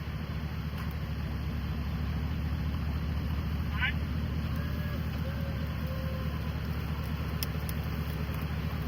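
A Porsche that went off a cliff idles in reverse during its recovery, a steady low engine rumble that stays constant throughout with only faint scattered noises above it.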